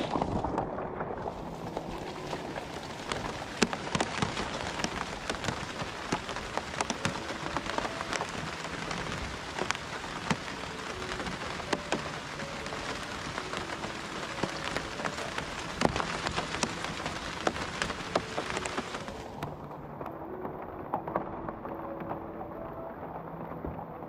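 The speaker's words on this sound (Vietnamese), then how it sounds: "Trời giờ mưa to rồi nha các bạn." Heavy rain pours down on a tobacco field where seasonal workers are harvesting in Korea, a loud, steady, dense roar of drops hitting surfaces that continues without a break for the whole stretch, with no talking.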